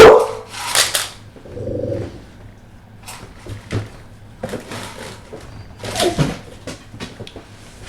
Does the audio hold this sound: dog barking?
yes